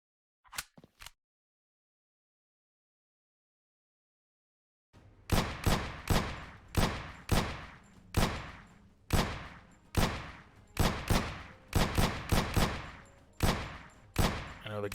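Rapid gunfire in the Aim Lab aim-training game: after a couple of quick opening shots and a pause, a loud, steady string of close single shots fires in fast bursts, each with a sharp crack and short tail, with no talk.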